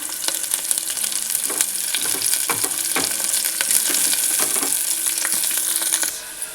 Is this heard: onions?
yes